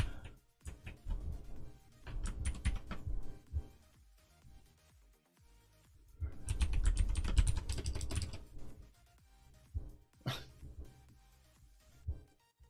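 Rapid keyboard typing comes in bursts and pauses, close and moderately loud, with clustered clacks from a computer keyboard during coding work on a chat client.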